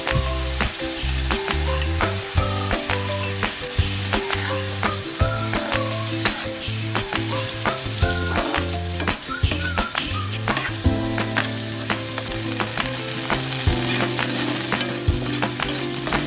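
Mashed tofu and scrambled egg frying in a pan, a steady sizzle broken by constant clinks and scrapes of a utensil stirring against the metal.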